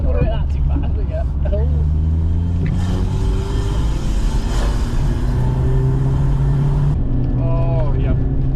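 A BMW E36 1.6 saloon pulls hard at full throttle, its engine drone climbing steadily in pitch from inside the cabin while people talk over it.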